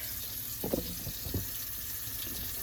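Tap water runs steadily into a sink while freshly tie-dyed clothes are rinsed, with a couple of brief splashes and sloshes as the fabric is moved under the stream.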